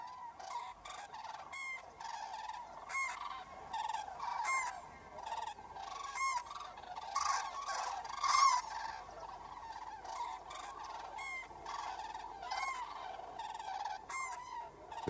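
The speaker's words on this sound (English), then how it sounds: "flocks of European cranes cross the mountains on their way from Spain to Scandinavia" Migrating flocks of European cranes crossing the Pyrenees give repeated honking, trumpeting calls that overlap in a faint, distant chorus with no voices.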